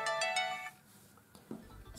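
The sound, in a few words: phone ringing, triggered by ZGPAX S28 smartwatch find-phone function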